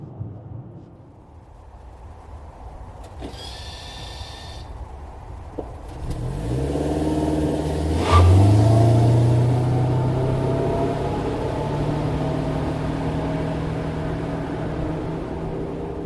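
A Toyota Crown Signia hybrid pulls away from a stop, its engine note rising steadily from a quiet cabin and holding a loud, even drone through the rest of the run, with no talk.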